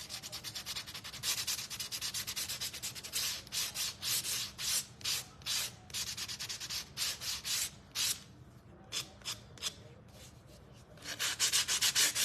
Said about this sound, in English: I am going to sand along the edge.